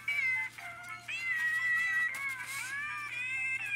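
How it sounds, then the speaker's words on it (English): A cat in the Roblox video game meows in a long, drawn-out call that rises and falls, loud and close, with a brief break near the start and no talking over it. "We accidentally found the cat."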